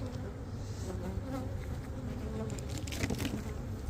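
A steady, dense buzzing of many honey bees close by at their hives during feeding, continuous throughout with no voices.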